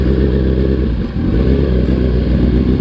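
Motorcycle engine running loud and close while shifting up into second gear, a continuous throaty rumble with a brief dip in the middle as the gear changes before the engine pulls again.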